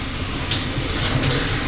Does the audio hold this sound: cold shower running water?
yes